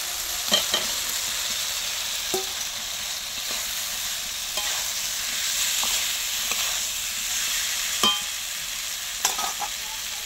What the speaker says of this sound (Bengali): এবার আমি ভেজে রাখা আলু আর বড়াগুলো ঢেলে দেবো।